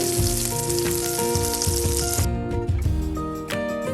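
Breaded dandelion roots, coated in egg and breadcrumbs, fry steadily in a pan with a dense, continuous crackling sizzle, close and loud and without talk, along with faint tonal hum from the kitchen.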